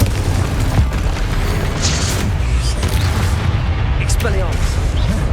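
Confringo fire spells from Hogwarts Legacy burst in a dense, loud run of booming blasts and pops over a continuous roar of combat noise.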